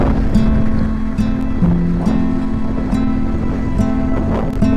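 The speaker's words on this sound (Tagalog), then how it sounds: "Grabe, ang lakas ng hangin." Strong Typhoon Uwan winds buffet the microphone on the coast at Nasugbu, Batangas, a loud continuous roar with rumbling gusts and a low droning tone running through it.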